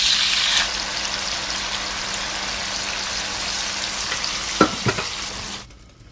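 Vegetables and carrot toasting in a pan for Chinese fried rice, a loud dense continuous sizzle like heavy rain with a couple of brief utensil knocks near the end before the sound drops away.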